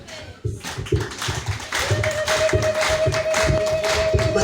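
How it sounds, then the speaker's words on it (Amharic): A church congregation at a healing and worship service claps for Jesus in a loud, steady, rhythmic beat, with a sustained tone running underneath. "አጨብጭቡ ለጌታ ኢየሱስ"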